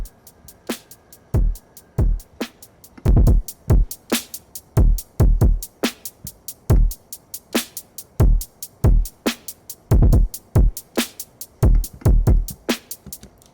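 Synthesized trap drums with no knock-style processing thump along in a loose, syncopated pattern of punchy kicks and crisp hits. The beat stays loud and alone throughout.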